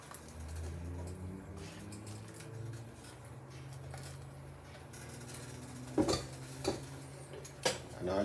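A pot of Jamaican stew peas being stirred, soft scraping under a low background hum, then several sharp metallic clinks of a spoon against the pot toward the end, close by with no talk.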